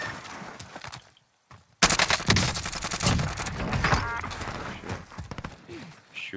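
Rapid gunfire in Call of Duty Warzone Season 3: dense, loud bursts of automatic shots crackle almost continuously after a short quiet gap, with faint chatter underneath.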